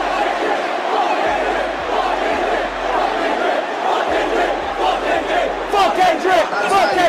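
Thousands of fans at Drake's Wireless festival set shout a repeated chant against Kendrick, a loud, continuous wall of voices swelling toward the end over intermittent low booms.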